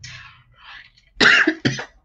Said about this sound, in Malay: Sorry, terbatuk pula